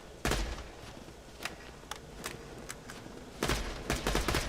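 Vladoff Vengeful TMP pistol fired from the hip in Borderlands 2, short bursts of sharp shots separated by pauses, with a denser rapid volley near the end over low background game noise.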